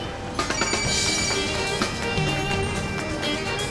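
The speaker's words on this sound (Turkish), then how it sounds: "Çaldır bakayım beni." A mobile phone rings indoors, its electronic ringtone repeating steadily and fairly loud over a busy background of room noise.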